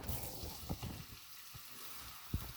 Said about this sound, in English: You get a little sizzling.